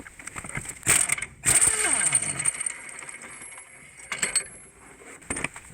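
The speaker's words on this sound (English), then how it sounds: "this I'm definitely going to take off with the impact gun" An impact gun hammers at a nut on a Subaru wheel hub in several short loud bursts with whirring spin-down between, close up, ending with a quick final burst.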